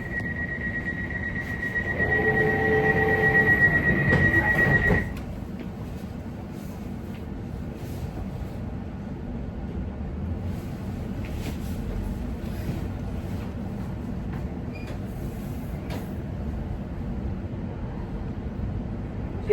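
A London Overground Lioness Line train runs along the tracks toward Watford Junction, a steady interior rumble and hum with a high tonal whine during the first few seconds, then quieter rolling noise and faint clatter.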